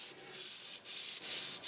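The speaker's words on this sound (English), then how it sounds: "So this wet sanding evens things out" Wet sanding on the paint of a Corgi Thornycroft model bus: short, faint rubbing strokes repeat back and forth in a soft, even rhythm, close up and without voices.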